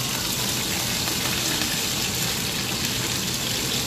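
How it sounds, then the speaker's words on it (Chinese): Food frying in hot oil until golden in a home kitchen, a steady, dense sizzling hiss that stays even and close throughout, with no talking. "我们就这样子等它炸到有点金黄色"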